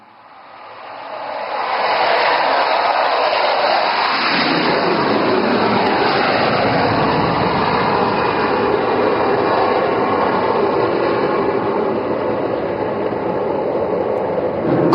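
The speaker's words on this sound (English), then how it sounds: "And now Abhimanyu 2 and 3 will carry out a low overshoot over the ELF and number 1 will land." Military fighter jets make a low overshoot flypast at an air display, heard as a loud, sustained engine roar that swells in within about two seconds and holds steady and close throughout, with no talk.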